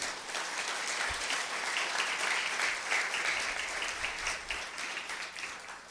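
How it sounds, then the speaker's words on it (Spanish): A church congregation claps together in dense, sustained applause that stays loud and even throughout, with faint voices mixed in. "Dale un aplauso al Señor."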